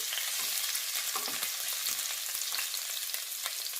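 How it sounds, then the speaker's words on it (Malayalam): Chopped ginger, chopped garlic and slit green chillies sizzle in hot oil for a fish curry, giving a steady, loud, close frying hiss with light crackles and no voices. "ചൂടായ എണ്ണയിലേക്ക് നമുക്ക് ഇഞ്ചി അരിഞ്ഞത് ചേർത്ത് കൊടുക്കാം"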